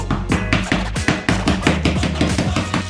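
A knife chops through lemongrass stalks on a cutting board, a brisk, regular series of close thuds and crisp cuts repeating about four or five times a second, with no talking.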